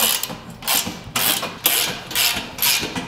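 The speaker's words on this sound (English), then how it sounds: "you take your 17 millimeter wrench, 17 millimeter socket, you're just gonna go through and tighten these up" A ratchet wrench with a 17 mm socket snugging bolts on a BikeMaster motorcycle carrier, giving loud, close bursts of fast clicking in about five rhythmic pulls, with no talking.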